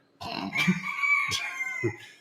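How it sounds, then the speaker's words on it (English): A rooster crows outside, one long loud cock-a-doodle-doo with clucking onsets, nearby and clear with no talk over it. "I'm going to close that window or chase that rooster away."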